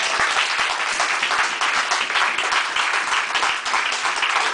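Sustained applause from a church congregation, dense and steady throughout at close range, with no speech over it.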